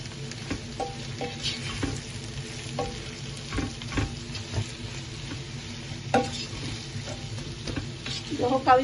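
Onions fry in a pan until browning, a moderate sizzle punctuated by clicks and scrapes of stirring, fairly close and free of speech.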